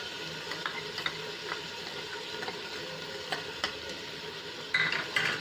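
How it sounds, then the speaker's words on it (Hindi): Gentle sizzling of chicken frying in ginger garlic paste in a pan, with stirring scrapes and a few light clinks of utensil on metal. Quiet and close. "उसी पेस्ट में इसको अच्छे से भूनेंगे"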